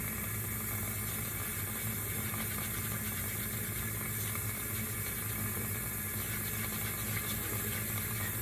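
Makeup brush rinsed under a running tap, a steady, continuous rush of water filling the whole stretch without pause, close and fairly loud, with no voices.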